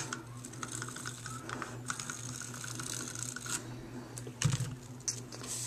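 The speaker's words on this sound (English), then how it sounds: "I'm just going to run some adhesive down the back." An adhesive runner is drawn along the back of a handmade card, giving soft, quiet, ratchety clicking and ticking over a faint steady hum.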